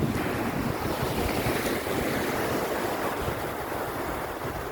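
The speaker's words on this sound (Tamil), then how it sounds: "கடல் கரையை நோக்கி வரும் தண்ணி. இப்போ கரை அடிக்குது." Ocean waves break on Omaha Beach in Normandy, France, a loud, continuous rush of surf mixed with heavy wind buffeting the microphone, with no voices.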